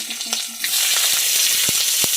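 Dry red chillies, cardamom, cloves and cinnamon dropped into hot oil for a paneer curry give a close, bright sizzle that rises sharply after a moment, with a few light stirring taps.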